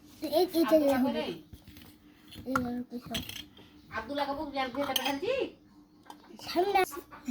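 A lid is set on a pot of rice cooking on a stove, giving a few short metallic clinks and clatters between stretches of nearby talk.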